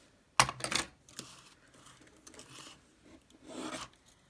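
Cutting off the edges of a Dollar Tree Christmas wreath: one sharp rasping snip up close, followed by softer scraping and rubbing sounds and a final faint cut, in a quiet room.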